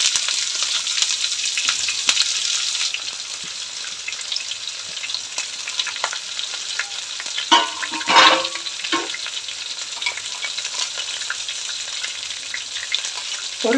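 Sliced onions and slit green chillies fry in hot oil for egg biryani, making a loud, steady sizzle with a few sharper surges of crackling midway and no one speaking.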